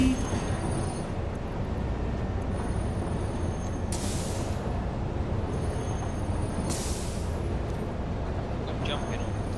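A train rolls past in the factory-building video game Satisfactory, a steady, loud rumble of wheels on rail with two brief hissing bursts like air brakes, lasting throughout.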